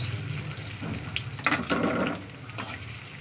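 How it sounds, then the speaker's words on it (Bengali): Chopped onions hit hot mustard oil and burst into a lively, crackling sizzle, with stirring and spatter rising and falling close by and no talk. "তো তেলটা গরম হলে দিয়ে দিচ্ছি পেঁয়াজ"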